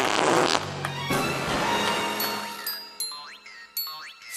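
Cartoon fart sound effect in a comedic animated scene, a long rumbling blast at the start followed by boings, dings and tinkling jingles.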